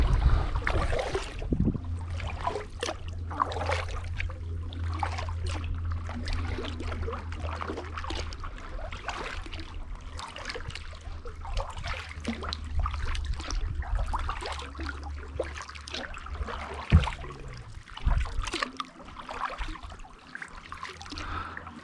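A kayak or canoe is paddled on George's Creek at Prettyboy Reservoir. Repeated soft splashes and drips from the paddle strokes come close by at an even rhythm, over a low hum early on.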